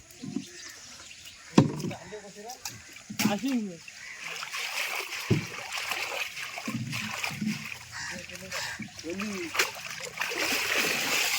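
Water splashes and sloshes in uneven bursts as freshly caught mullet fish are washed by hand, fairly close, with someone talking over the splashing throughout.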